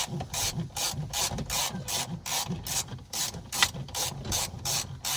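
A ratchet clicks rapidly in repeated bursts, a steady back-and-forth cranking rhythm heard up close with no talking.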